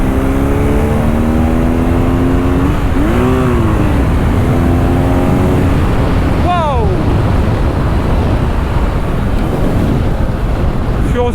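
A 2023 BMW R nine T motorcycle accelerates through the gears, its engine note rising in pitch, dropping at each shift and climbing again, close up under heavy wind roar.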